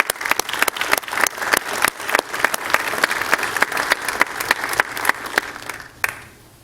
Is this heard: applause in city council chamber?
yes